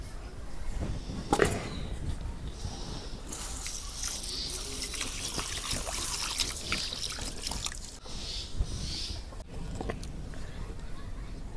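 Water poured over large grains of biryani rice to soak them for chicken biryani cooked on a clay stove, heard as a steady trickle with splashing and a few drips while someone speaks.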